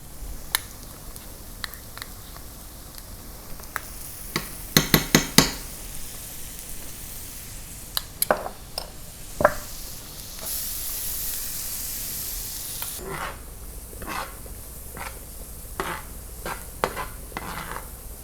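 Onions, butter, mushrooms and garlic sizzle softly in a pan, a low steady hiss broken by sharp clinks and scrapes of a utensil against the cookware, with no voices.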